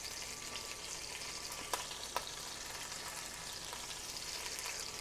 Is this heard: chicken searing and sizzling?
yes